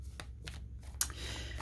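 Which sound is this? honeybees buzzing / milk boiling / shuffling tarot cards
shuffling tarot cards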